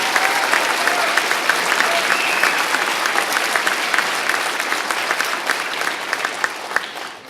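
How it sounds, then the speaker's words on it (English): A large crowd claps steadily and loudly for several seconds at a fire academy graduation, a dense wash of applause that fades slightly near the end. "One more round of applause for James City County's newest firefighters."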